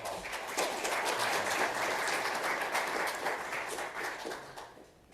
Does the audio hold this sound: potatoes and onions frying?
no